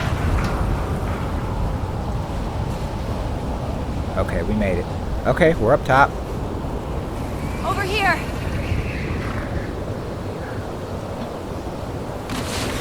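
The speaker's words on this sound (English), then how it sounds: "Storm's really picked up." Stormy wind gusts blow steadily through The Last of Us Part 2, a constant rushing roar with brief whistling tones, while a player talks over it.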